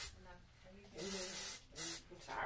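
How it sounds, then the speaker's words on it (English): Hairspray from an aerosol can in a dressing room, two loud hissing bursts about a second and half a second long, with people talking quietly around them. "Do you want any spray, Kate?"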